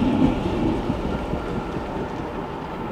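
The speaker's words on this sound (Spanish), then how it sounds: "A ver si para el tranvía y puedo hablar." A tram passes along a rainy Budapest street near the Parliament, giving a steady low rumbling roar that fills the whole stretch, close and loud, with no talk over it.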